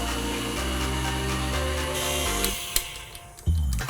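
An electric mixer whirs through banana bread batter in a bowl, a steady, loud motor drone that changes pitch as the speed shifts, then slows and stops near the end with a couple of knocks.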